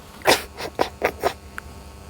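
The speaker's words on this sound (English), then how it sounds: "She's a Bombay cat." A Bombay cat meowing or vocalising in a quick series of five short, close calls, then a faint chirp.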